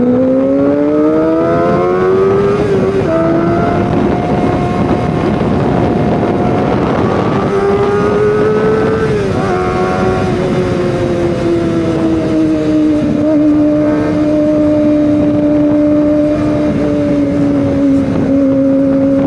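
Kawasaki Ninja ZX motorcycle riding on a road, its engine droning loud and close with rising and falling revs and gear changes, wind rushing over the microphone throughout, no talking.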